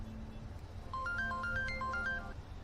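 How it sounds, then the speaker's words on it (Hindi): A melodic electronic ringtone plays a repeating rising pattern of tones over a low steady hum, ringing for a couple of seconds. "इस टाइम पे किसका फोन है?"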